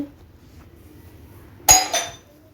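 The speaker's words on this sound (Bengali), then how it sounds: "দেখো ঢাকা খুলে আমি এটাকে একদম নাড়িয়ে নিচ্ছি ভালো করে" Radish greens being stirred in an uncovered cooking pan: after near silence, one sharp metallic clink and scrape of a utensil on the pan, followed by a second softer scraping stroke.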